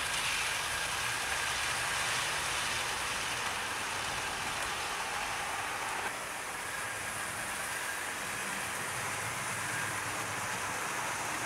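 Collett GWR Castle Class locomotive trundling along steadily, a continuous even rumble and hiss running the whole time with no talk.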